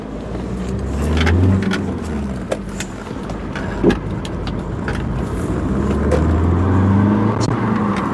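A car pulls out on a foggy road, its engine humming low and steady up close with gentle swells as it moves off, plus a few faint clicks and knocks.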